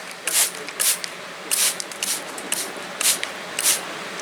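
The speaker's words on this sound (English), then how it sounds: "I'm just going to go over them with the spray bottle again to get that seed moist." Short hissing spritzes from a spray bottle misting seeds repeat at a steady pace, about eight puffs, close and clear with no talking.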